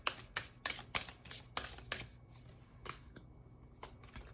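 Oracle cards shuffled for a reading give a close, rhythmic series of crisp riffling bursts, about a dozen quick passes, loud with no talk over them.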